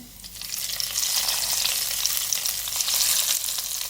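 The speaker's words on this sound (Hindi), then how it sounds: "तड़का तैयार हो गया, मैं इसको दाल में डाल रही हूँ।" Hot tadka, a spiced oil tempering, poured into cooked moong dal with spinach, crackling into a loud, steady sizzle that holds for several seconds with no talk.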